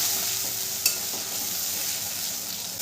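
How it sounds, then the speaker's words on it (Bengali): A spice paste of cumin, green chili and ginger sizzles and fries steadily in a pan as it is stirred, with one brief clink of the spoon. "মশলাটাকে খুব ভালো করে কষিয়ে নেব"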